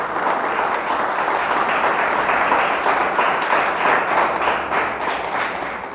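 Sustained, loud applause from a church congregation, dense clapping continuing steadily throughout with no break.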